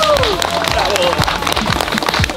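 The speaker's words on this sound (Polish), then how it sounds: "Brawa dla Bartka Ostałowskiego" A short burst of scattered clapping, sounding almost like rain, fills a couple of seconds as an audience applauds a Guinness world record holder, with a voice sliding over it.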